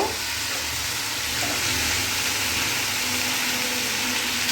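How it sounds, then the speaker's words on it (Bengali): Pieces of elephant foot yam fry in oil in a pan over a medium gas flame, giving a steady, close, even sizzle with no talking. "প্রথমে একটু ভাজা ভাজা করে নেব।"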